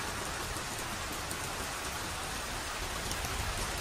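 Heavy rain pouring across Singapore, heard from shelter under a housing block; a dense, steady, loud wash of rainfall with no let-up and no voices.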